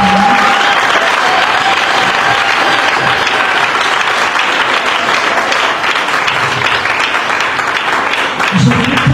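An audience at a church youth seminar breaks into loud, sustained applause and cheering that fills the room continuously, with voices mixed into the clapping.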